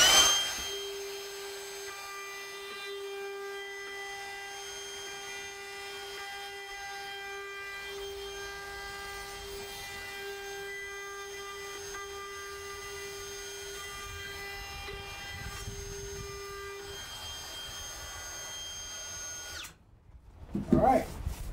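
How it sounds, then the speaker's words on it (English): Cordless router fitted with a 45 degree chamfer bit riding on a 3/8 bearing, chamfering a sign edge; a steady high motor whine runs for about twenty seconds, then cuts off into a short burst of handling noise. "So that's on my 45 degree chamfer bit with a 3/8 bearing on it. And we'll just put a real quick chamfer on that."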